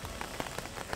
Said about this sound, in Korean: 장맛비가 주룩주룩 내리고 있습니다.